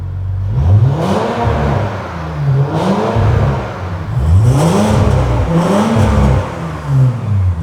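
An Audi RS4 B9 with a Stage 2 ECU and TCU tune revs with its exhaust valves open, giving loud, deep repeated rises and falls in engine pitch, about four blips in a row, close up and with no talk.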